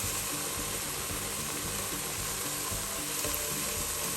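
Egg curry masala mixture sizzles and fries in a pan, a dense, steady crackling hiss that continues unbroken at close range, fairly loud, with no talking.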